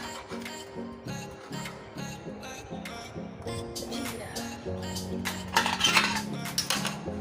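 A knife cuts into a ripe phut fruit, giving a series of sharp taps and light clinks against a hard surface, with soft background music underneath.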